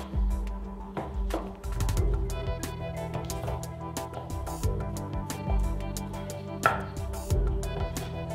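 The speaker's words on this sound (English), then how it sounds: "I like to split the butter into quarters the long way here" A knife cuts a block of butter lengthwise into quarters and then cubes on a cutting board, giving a steady run of close, dull taps and thunks, with no talking.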